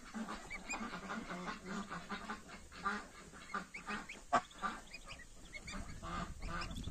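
Young goslings peep and honk in a busy chorus, with overlapping calls and rustling close by outdoors on grass.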